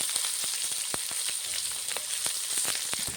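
Chopped onion and green chili frying with whole cumin in hot oil for a Bengali small-fish chorchori: a close, continuous crackling sizzle scattered with sharp pops, heard alone without talk.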